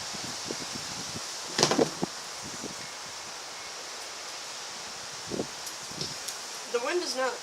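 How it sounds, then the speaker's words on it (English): Outdoor wind makes a steady, broad rushing hiss that runs the whole time, with a few brief scrapes and clicks on top and a short voice fragment near the end. "The wind is not being very friendly right now."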